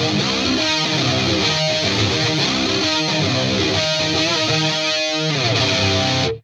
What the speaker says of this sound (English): that's literally just the chorus pedal